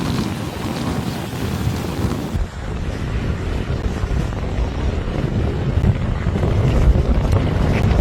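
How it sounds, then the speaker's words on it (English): Strong wind roars steadily over open water on a downwind run between Sequim and Port Townsend, a loud continuous buffeting rush with no voices. "Wind's picking up"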